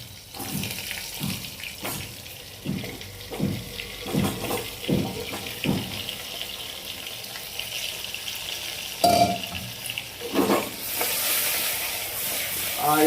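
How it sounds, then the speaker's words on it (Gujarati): Masala-stuffed brinjals frying in hot oil with mustard seeds in a pan, a soft continuous sizzle broken by a series of louder clattering bursts as pieces drop in and are stirred. "હવે આના અંદર નાખશે આ રવૈયા જે મસાલો ભરીને તૈયાર કર્યા હતા એ."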